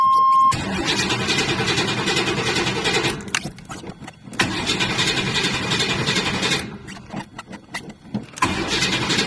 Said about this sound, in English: So this one rough to crank up for real.